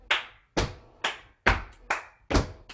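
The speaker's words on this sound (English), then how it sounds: "Yeah, eight claps." Six sharp hand claps in a steady rhythm during a tap dance class, each clap crisp and close with a short decay and clear gaps between them, with no talking.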